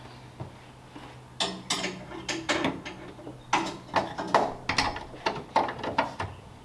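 An air impact gun spins on a nut in a garage, giving a close, rattling series of mechanical bursts that repeat in a fairly steady rhythm after a quieter start.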